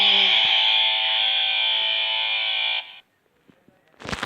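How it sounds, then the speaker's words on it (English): Electronic car alarm effect from a Road Rippers toy Ford Mustang, a loud, steady buzzing tone held for about three seconds before cutting off, then a brief noise. "That's a car alarm."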